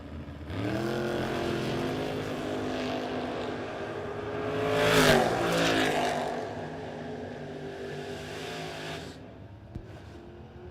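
Drag race cars run at Maple Grove Raceway in a loud, sustained engine roar that swells to a peak mid-run and then fades, with no talk over it.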